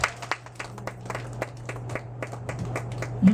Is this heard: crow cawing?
no